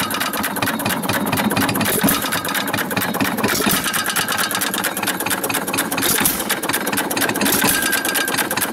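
A 1925 Baker Monitor 1 1/4 hp stationary gas engine runs steadily close by, its rapid even knocking beat continuing loud and unbroken throughout with no talk.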